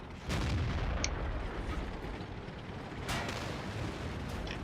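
Tank cannon fire in the World of Tanks game on the Sand River map, with two heavy booming shots a few seconds apart over a constant rumbling battle background, and no voices.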